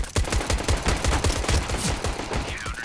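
Rapid gunfire in a Counter-Strike style game, with sharp repeated shots in quick bursts, loud and close and alone for several seconds.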